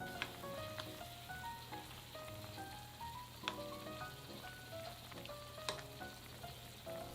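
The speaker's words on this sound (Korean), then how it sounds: "중간불로 10분 정도 푹 끓이겠습니다" Beef yukgaejang soup with bean sprouts and bracken simmering over medium heat, bubbling and popping steadily in a pot with a soft hiss beneath and no speech.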